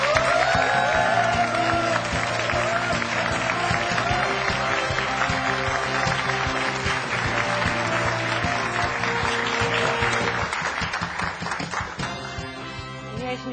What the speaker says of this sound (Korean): 이렇게 박수를 많이 받아보는 게 처음인 것 같아요